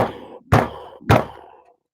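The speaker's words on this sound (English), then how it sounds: "she took hold of the knocker and banged on the door" A door knocker banged on a large cave door, a heavy thudding knock followed by two more, each a loud hollow thump with a short ringing decay.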